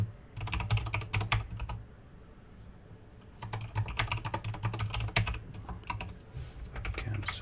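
Someone types code on a computer keyboard: steady close key clatter in two long runs with a short pause between, no voices.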